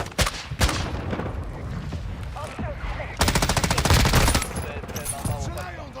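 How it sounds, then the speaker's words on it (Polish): Bursts of rapid automatic gunfire in a PS5/PC video game, a short volley early and a longer dense burst near the end, loud and close, with game sound effects between the shots. "Strzelają do mnie. Ostatni magazynek. Jestem pod ostrzałem."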